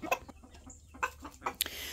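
Chickens clucking in short irregular bursts, fairly close, with a few higher squawks between quieter pauses.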